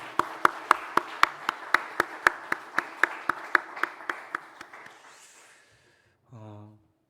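A church congregation gives a short round of thanks applause: about twenty distinct, evenly spaced claps, fairly near, fading out before a brief voice is heard at the end.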